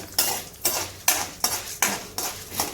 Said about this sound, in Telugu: కొంచెం ఆవాలు వేసుకుంటున్నానండి. అలాగే మెంతులు, ఇవి వేగాలి. ఇంకా ఇవి వేగుతున్నాయి కదా.